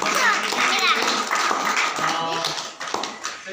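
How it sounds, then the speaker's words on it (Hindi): Applause for a children's dance performance at a Christmas gathering, a busy clatter of clapping mixed with children's voices and chatter throughout. "जोरदार तालियां"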